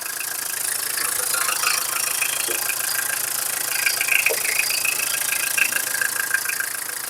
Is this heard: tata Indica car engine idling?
yes